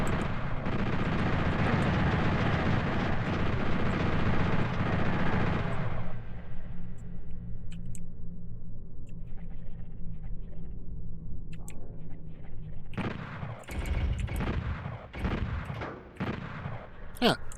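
Shotgun blasts from the PlayStation port of Doom running in PSYDoom, as a closet of shotgun-wielding enemies opens up: a loud roaring barrage, then a lull, then several sharp separate bangs close by.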